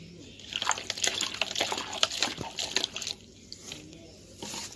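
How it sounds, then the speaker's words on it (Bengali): Greens being washed with water give splashy, dripping and trickling sounds in bursts at close range, with quieter gaps between. "জল দিয়ে ভালো করে ধুয়ে নিলাম"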